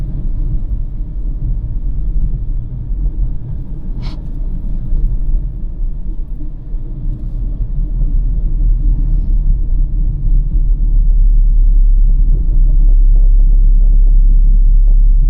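Steady low engine rumble from a car driving on a road, slowing to under 40 and shifting down to third gear, with the drone swelling slightly louder toward the end; no talking.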